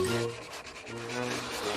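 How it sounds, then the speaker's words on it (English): A continuous abrasive rubbing of sandpaper worked back and forth over a wooden coffin, close and fairly quiet, with slight surges in each stroke. "Maybe you can help me sanding the coffin."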